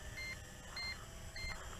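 A Snaptain SP500 foldable GPS drone beeping as it starts returning home, three short paired electronic beeps evenly spaced, faint against a steady hum of rotors and wind.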